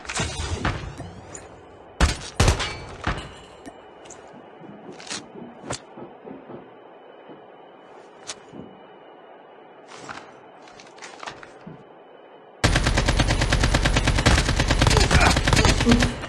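Gunfire in a battle royale video game: sharp single shotgun-like blasts and scattered shots over quiet footsteps and rustling, followed by a sustained loud burst of rapid fire near the end.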